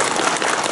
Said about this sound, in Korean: 우리 박수 한번 쳐봅시다